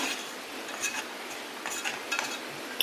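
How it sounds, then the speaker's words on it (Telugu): Bombay rava (semolina) being dry-roasted in a pan for rava kesari, heard as soft scraping and stirring with occasional light clinks of a spoon against the pan, close and fairly quiet. "బొంబాయి రవ్వ అనేది ముందుగా వేయించుకుంటామండి రవ్వ కేసరి కోసం"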